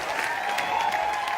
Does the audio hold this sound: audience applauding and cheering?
yes